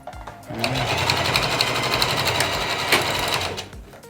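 A sewing machine stitches a fabric sweatband, a loud rapid whirring run of needle strokes lasting about three seconds, starting and stopping abruptly with light handling sounds around it.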